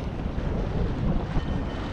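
Wind buffeting a First 26 sailboat at sea near Brest, a loud, steady roar of wind noise with waves underneath and no talk.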